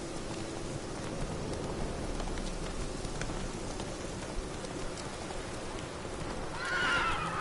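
Roach the horse in The Witcher III game trots with soft clip-clop steps over steady rain, then gives a clear, loud whinny near the end.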